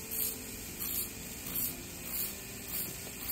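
A Dremel rotary tool spinning at about 10,000 RPM, a faint high-pitched whine that rises in short regular pulses about every half second.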